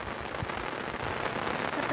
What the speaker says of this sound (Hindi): बहुत तेज बारिश आ गया।